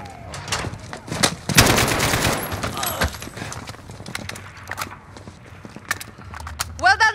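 Rapid gunfire bursts crackle in a Modern Warfare campaign firefight, with a dense loud volley near the start and scattered sharp shots and clatter after, while voices talk intermittently.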